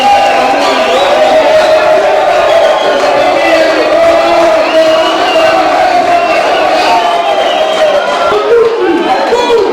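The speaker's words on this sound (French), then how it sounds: "Je vous dis d'applaudir pour moi" A loud crowd at a political rally in Lubumbashi, massed voices cheering, whooping and shouting in a continuous roar with chatter mixed in, close and unbroken throughout.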